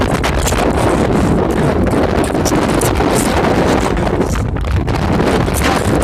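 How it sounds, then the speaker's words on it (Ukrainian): Strong wind buffets the microphone in a constant, loud roaring rush with gusty fluctuations throughout. "ох і вітер"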